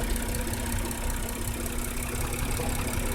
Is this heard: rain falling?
no